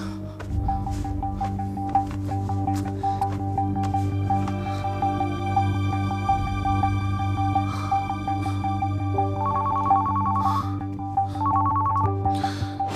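A telephone rings in a repeating electronic pattern, two bursts of trilling tone over a steady hum of background noise.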